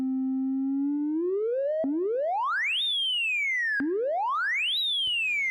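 A synthesizer oscillator under heavy FM modulation gives three rising, gliding tones, each sweeping upward and then sliding back down, pure and whistling with no voices.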